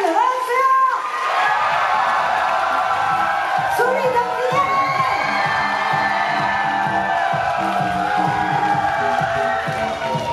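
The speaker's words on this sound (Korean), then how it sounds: "들고 있는 카메라를 놓고 큰 박수!" An audience at a K-pop girl group GWSN showcase in YES24 Live Hall cheers and claps loudly, a dense crowd roar with shrill whoops rising throughout.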